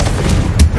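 Fiery blast spell cast in the video game Hogwarts Legacy, a short booming burst with a bright crack near the end, loud and close within a brief low rumble.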